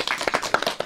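Audience applause for a child guest on a Pakistani children's TV show: a short burst of brisk, fairly close hand clapping from a studio crowd, with no voices over it.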